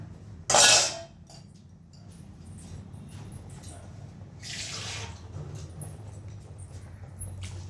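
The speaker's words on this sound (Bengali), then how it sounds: "আর একটু জল দিলে খুবই ভালো হয়।" Water poured into a simmering gourd curry: a brief loud splash near the start, a softer pouring rush a few seconds later, and low bubbling and light clinks in between, with no talking.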